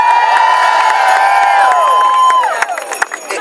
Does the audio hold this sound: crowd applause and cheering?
yes